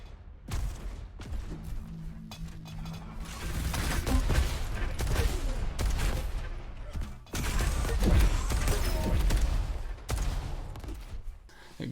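Repeated grenade blasts echo in the Diabotical arena shooter, arriving as rapid thuds and crashing bursts in two loud clusters over steady game noise.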